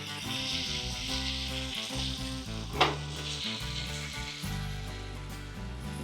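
Chicken malai kababs frying in a pan on medium-low heat, a steady, dense sizzle running continuously with one brief clink partway through.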